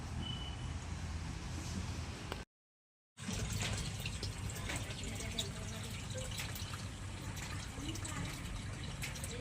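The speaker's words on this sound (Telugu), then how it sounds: "గోతుల్లో ఉన్న నీళ్ళు తోడుకుంటున్నాం" Water is scooped from pits dug in a dry lake bed, giving continuous splashing and pouring with drips, broken by a brief silent gap, and voices are heard under it.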